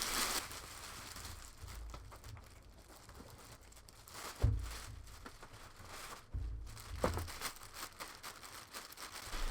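Plastic film bags crumpled and crinkled by hand up close, soft irregular rustling with a couple of sharper crackling bursts around the middle, fairly quiet overall.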